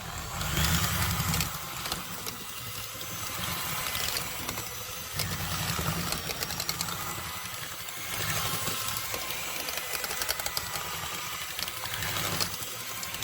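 An electric mixer whips heavy cream into mashed butternut squash, giving a loud, steady motor whir that runs the whole time with no voices over it.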